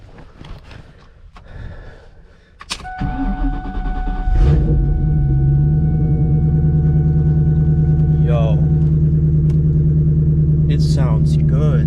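A Ford Mustang engine with a suspected fault cranks and catches, then settles into a loud, steady, rumbling run close by, with a voice calling out briefly before it starts.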